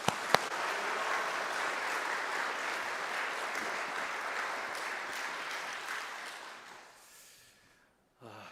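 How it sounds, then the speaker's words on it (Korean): A church congregation breaks into sustained applause at a Korean worship service, a dense even clatter of many hands that holds steady for several seconds, then fades and stops. "우리 한 박수로 한번 환영하십니다."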